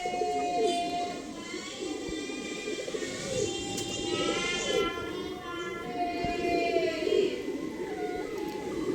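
Male pigeons offered for sale coo repeatedly at close range, the soft calls recurring throughout while a person talks over them.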